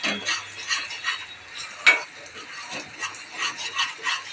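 Edible gum and flour being stirred and roasted in a pan, with a spoon scraping in a steady rhythm of soft strokes, light sizzling and one sharper clink of metal on the pan.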